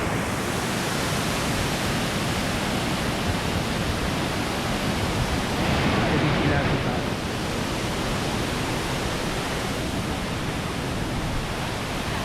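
A waterfall in the rain roars as a dense, steady broadband rush, loud and close, with no breaks or distinct events over the whole stretch.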